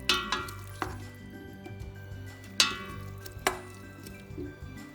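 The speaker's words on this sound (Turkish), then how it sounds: "soğanlarımız sararıncaya kadar biraz kavuralım." Onions sauté in olive oil in a pressure cooker, giving a soft low sizzle. Several sharp clinks and scrapes of a utensil against the pot stand out above it at intervals.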